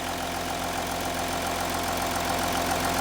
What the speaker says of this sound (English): The engine sounds great.